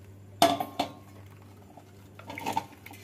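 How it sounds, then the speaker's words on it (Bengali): Boiled potatoes tipped from a metal pot into a basket to drain, heard as a sharp metallic clank followed by a second knock, then a softer clattering tumble and rattle a moment later, close and without talk. "আলুটা সেদ্ধ হয়ে গেছে, এবারে একটা ঝুড়ির মধ্যে আলুটাকে ঢেলে দেব"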